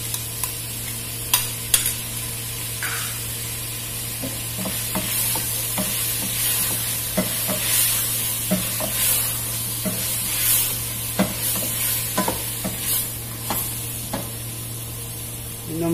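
Yogurt is stirred into vegetable biryani masala frying in a pan. Close, repeated scraping stir strokes run over a steady sizzle, with no talking.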